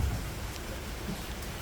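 Steady rain falls outdoors with a continuous soft hiss and patter close around, heavy and unbroken, with no voices.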